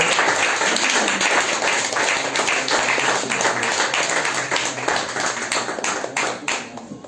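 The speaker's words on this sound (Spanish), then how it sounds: "Denle un fuerte aplauso a nuestro Dios" A church congregation applauding during a sermon, dense sustained clapping from many hands, close and loud, gradually thinning toward the end.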